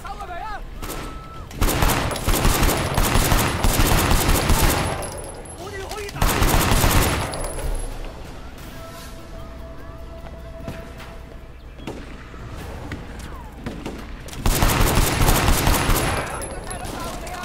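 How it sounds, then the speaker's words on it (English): Loud bursts of rapid gunfire in the video game Sleeping Dogs: Definitive Edition come in several volleys, with quieter stretches between them and some faint voices and background sounds. "These gunshots are loud."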